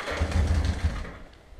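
A cafe racer motorcycle engine that has not run for a long time being cranked by its starter, giving a brief low chugging churn that fades out after about a second without catching.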